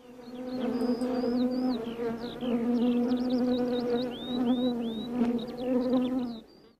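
Honey bees buzz steadily and close by, a continuous loud drone with wavering pitch, joined by high chirping tones over the top, with no talk.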